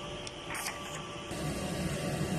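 The print head of a Smart One Head large-format printer runs steadily, giving a continuous mechanical whir and hiss that grows slightly louder after about 1.3 seconds. No one talks.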